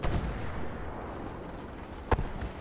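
A Challenger 1 tank gun fires in a video game replay, one sharp report standing out against a low rumbling background.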